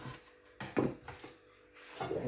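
Vegetables are chopped with a knife on a board in a home kitchen while making a Spanish omelette, giving several irregular close knocks and scrapes amid light background noise.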